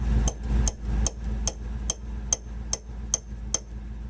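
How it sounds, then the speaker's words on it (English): A hammer strikes a part on an old truck in a steady series of about nine sharp metallic blows, evenly spaced and close, over a low background rumble. "If I just hammer this in here,"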